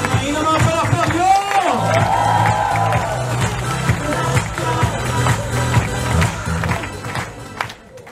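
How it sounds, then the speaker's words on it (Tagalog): Seminar crowd claps and cheers loudly for a speaker being welcomed on stage, whoops over dense applause that fades after a few seconds, with voices talking under and after it. "Ay naman palakpak nyo!"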